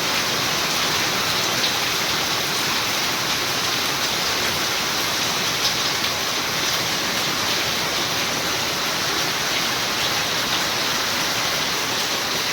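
Heavy night rain in a Gujarat village, a dense unbroken roar of downpour drumming on surfaces, loud and steady with no breaks throughout.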